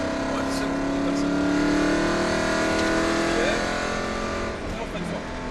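Car engine accelerating through a bend during a driving lesson, a steady rising drone with the pitch climbing across the turn, then easing off toward the end, with an instructor's voice over it.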